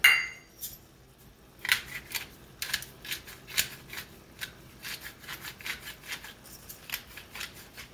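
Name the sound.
ground pepper being added to beef stroganoff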